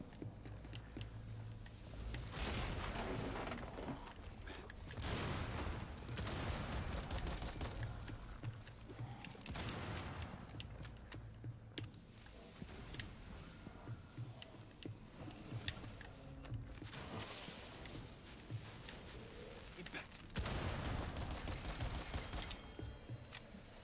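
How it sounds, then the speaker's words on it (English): Impact grenade explosions and gunfire in the co-op shooter Rainbow Six: Extraction, loud and dense throughout, with repeated bursts of heavy blasts and rattling shots layered over a constant battle din, no voices. "Impact grenade!"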